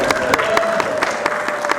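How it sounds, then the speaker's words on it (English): Applause from an audience at a church gathering greets a musician being introduced, a short burst of dense clapping with a few sharp claps standing out and a faint tonal hum underneath. "Let's give him a round of applause."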